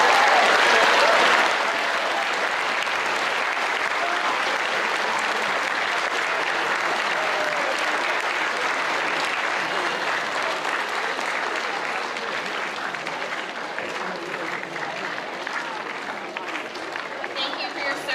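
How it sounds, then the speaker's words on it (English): A school audience at a Veterans Day program applauds a band with sustained, dense clapping that starts loud and gradually eases over many seconds, filling a large room with crowd noise. "Can we give another round of applause to the band?"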